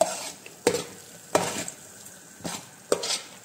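Gobi manchurian sauce stirred in a pan, a spoon scraping through it in four or five distinct strokes over a soft background sizzle, close and fairly quiet.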